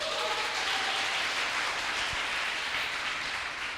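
Congregation applauding at an evangelical Portuguese-language church service, a dense, steady wash of clapping that holds evenly throughout the clip.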